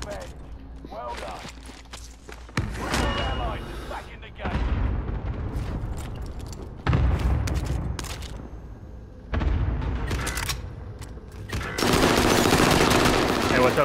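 Shooting video game gunfire in bursts of automatic fire and booms, arriving in loud waves between quieter stretches, with players talking over parts of it.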